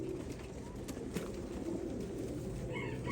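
Red akbaş pigeons, a young, healthy group, cooing softly nearby in a loft, low throaty coos repeating over a steady background rumble, with faint other noises.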